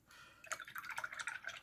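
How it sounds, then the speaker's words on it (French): A paintbrush is rinsed in water, giving a short run of light, close dripping and splashing sounds, faint and without talk. "Donc, je peux rincer mon pinceau."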